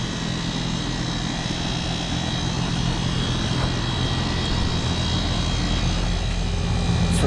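A new 2022 Goodman air conditioner with a rotary compressor runs outdoors, giving a steady, close, continuous mechanical hum and fan roar with no break or change over the whole stretch.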